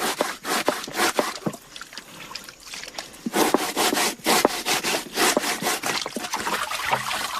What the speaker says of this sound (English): Then the vegetable has to be squashed to a pulp and sieved.